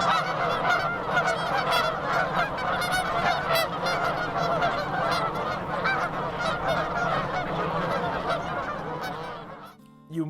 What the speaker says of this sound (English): It's just like two different geese talking back and forth.